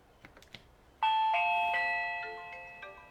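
A Reolink battery doorbell sounds its chime right after a few soft button clicks, a bright multi-tone ding that rings out clearly and slowly decays, close and alone.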